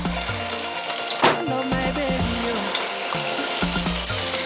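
A breaded tuna croquette, dipped in egg and breadcrumbs, fries in hot oil with a steady bubbling crackle, close and moderately loud, with a few louder pops and clinks and no talk.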